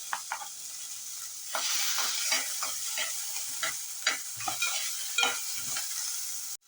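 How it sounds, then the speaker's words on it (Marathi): Onion, tomato, cashews, ginger and garlic are sautéed in a pan, with a steady sizzle and repeated scraping stirs of a spoon against the metal, close and moderately loud, with no speech. "कांदा थोडासा परतल्यानंतर त्याच्यात हा टोमॅटो घालायचा आहे, काजू, आलं, लसूण हे पण सगळं चांगलं परतून घ्यायचं आहे."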